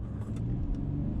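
Inside a 2017 Mercedes S350d, a steady low engine rumble fills the cabin as the car gathers speed, smooth and continuous with no voices.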